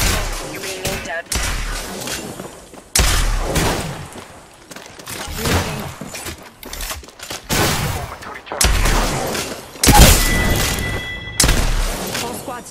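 Bursts of rapid gunfire and booming weapon blasts from the battle royale shooter Apex Legends, loud and close, arriving in clustered volleys separated by brief gaps.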